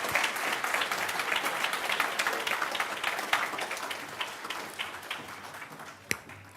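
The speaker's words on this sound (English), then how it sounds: "please give a big round of applause for our panelists" An audience applauds panelists at a talk on compassion and consciousness, a dense, steady wash of clapping that thins toward the end, with one sharp clap near the close.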